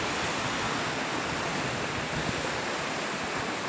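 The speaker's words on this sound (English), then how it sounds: "seeing how the water is coming right around this island." Waves wash steadily around a small island at Las Cuevas, Trinidad, making a continuous, loud, broadband rush of surf with no breaks and no voices.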